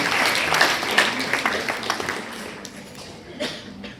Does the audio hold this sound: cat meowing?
no